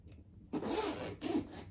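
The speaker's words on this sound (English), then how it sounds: "Look at that top zipper." Zipper on a crossbody bag pulled closed in two quick, close rasping strokes with a brief pause between, clear and without talk.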